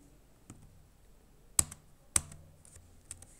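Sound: computer keyboard typing and pressing enter

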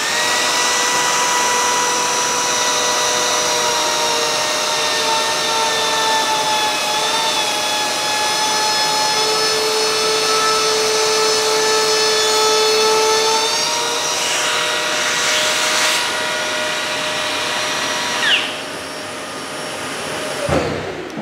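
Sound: router cutting MDF architrave with vacuum attached

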